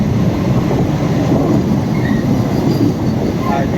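A Vande Bharat express train rushes past on the line toward Mumbai, a loud, steady rumble of wheels and carriages close by, with faint squeals and clatter running through the whole stretch and no talk over it.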